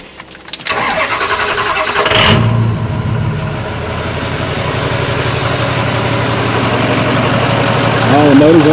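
A motor cranks and fires up, then settles into a steady, fairly loud idle that runs on evenly and close by, with a brief voice near the end.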